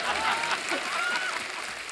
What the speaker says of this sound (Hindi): जोरदार तालियां हमारे गेस्ट के लिए